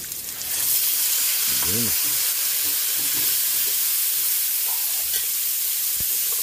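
Pork sizzles and fries loudly in a pan, a continuous bright hiss with occasional stirring clatter, while someone briefly speaks over it.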